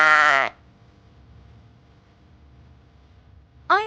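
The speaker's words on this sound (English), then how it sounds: "I am a sheep. I say ba ba." A farm sheep bleats twice, a loud wavering baa at the start and another beginning at the end, with low quiet background between them.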